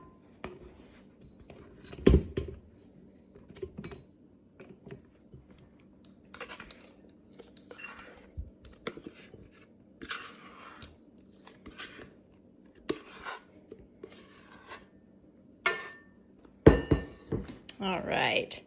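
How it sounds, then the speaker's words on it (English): A bread scraper works smooth bread dough out of a KitchenAid mixer bowl, making scattered scrapes, taps and clinks against the metal bowl with quiet gaps between them. "I like to use a bread scraper to do this."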